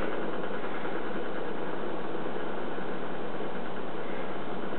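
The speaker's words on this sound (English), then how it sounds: "Spinning now on a film of air, the Rayleigh thrust bearing." Rayleigh hydrodynamic thrust bearing spinning on a film of air, heard as a steady, even broadband hiss and whir with no change in level, close and uninterrupted.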